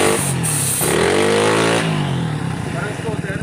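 A clattering, noisy motorcycle engine with a scooter-like tone revs up once and then falls back, loud and close, with talk over it.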